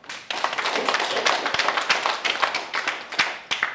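A lecture audience gives a burst of quick, scattered applause, a dense run of close hand claps lasting a few seconds with no talk over it.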